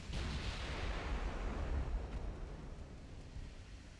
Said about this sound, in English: See how these torpedoes strike the Gascony.